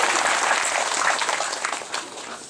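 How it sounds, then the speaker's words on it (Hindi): An audience at a public gathering claps to welcome a speaker onto the stage, dense steady applause that fades slightly toward the end, with no voices over it. "लोग ताली बजाकर उनका स्वागत करेंगे।"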